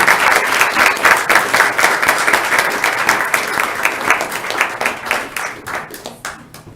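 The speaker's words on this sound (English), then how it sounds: "One last round of applause as they exit," Audience at a city commission meeting in Marquette applauding as presenters exit, loud close clapping sustained for several seconds and tapering off toward the end.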